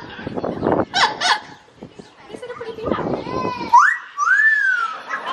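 An Amazon parrot calls during flirting, giving a string of clear rising whistles and squawky chatter at close range, with people talking at the start.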